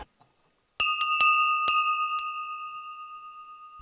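A few small Christmas carolers' bells struck in quick succession ring out clearly in a quiet room, their bright tones overlapping and slowly fading away.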